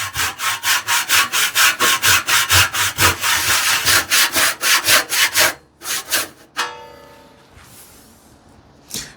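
A hand saw cuts through wood for a rebate plane in close, rhythmic push-pull strokes, about twenty steady rasps before slowing into a few separate strokes and a short faster scrape near the end.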